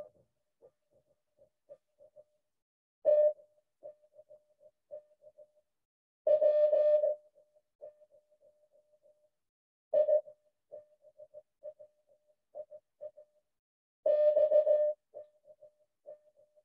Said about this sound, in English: So typically the Germans would transmit this, so you'd hear this over Morse code, you'd hear it over the air.